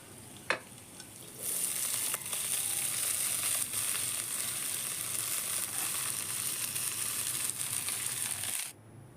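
Chopped red spinach hits hot oil with softened onions in a pan, giving a loud, steady sizzle that holds for several seconds after a brief clatter, then cuts off abruptly near the end.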